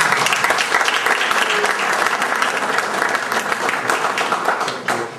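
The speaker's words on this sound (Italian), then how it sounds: "penso di chiedervi un applauso per lei in questo momento" An audience at an Italian round-table conference applauds the secretary with loud, dense, sustained clapping that fills the room without a break and fades slightly at the end.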